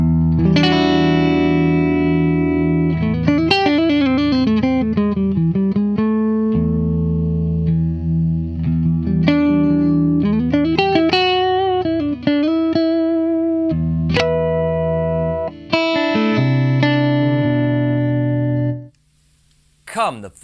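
Electric guitar with a piezo and single-coil pickup played through a Modulus Echo MP custom delay pedal, clean melodic phrases with repeating echo tails and a slight distorted edge, continuous and loud before cutting out near the end.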